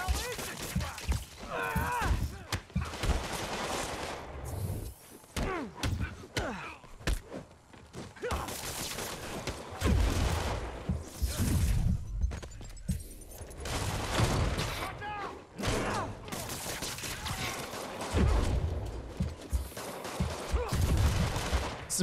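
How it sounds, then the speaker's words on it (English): Heavy gunfire fills a combat scene in the Marvel's Spider-Man video game, with sustained bursts and rapid volleys, loud and close, alongside game noises and some voices. "All shooting guns so hard."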